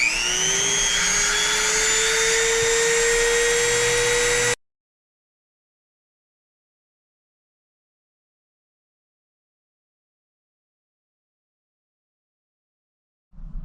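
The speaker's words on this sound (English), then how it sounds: "I'm using a diamond cutting wheel, and it's actually really good." A Dremel tool with a diamond cutting wheel gives a loud, high whine that rises slightly in pitch as it cuts. It stops abruptly after about four seconds, leaving a long silence with no speech.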